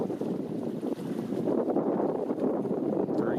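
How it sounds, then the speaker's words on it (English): Strong wind gusts across a lake on a solo canoe trip, a steady broadband rush of buffeting with some water and boat noise underneath and no talking. "the wind's really coming"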